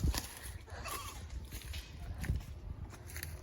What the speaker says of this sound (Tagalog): Ayun pala ang kambing